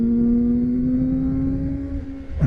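A Benda LFC 700 motorcycle's four-cylinder engine holds a steady high-pitched buzzing note up close, then a quick sweep in pitch near the end as it revs.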